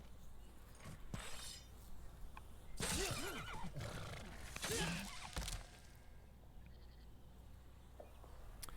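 Horses neigh in the strategy video game Old World: two distinct whinnies rise and fall over a quiet steady background, at moderate loudness.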